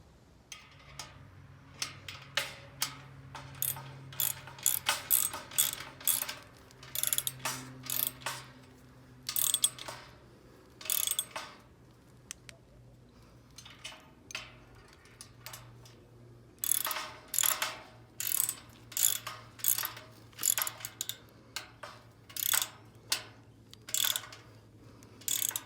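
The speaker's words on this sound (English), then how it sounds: "flip it over and insert the bolts on the other side" Bolts go into a B-Dawg Towing St. Bernard hitch-mounted cargo basket as it is assembled, with rapid ratcheting clicks in repeated bursts that are close and clear over a low steady hum.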